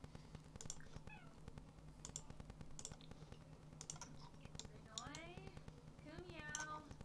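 A cat in The Sims 4 video game meows several times at a faint level, rising toward the end, over quick keyboard typing and mouse clicks.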